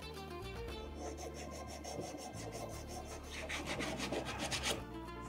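Wooden pieces being smoothed by hand before joining make a continuous raspy rubbing and filing, close and steady and growing slightly louder toward the end, with no talking.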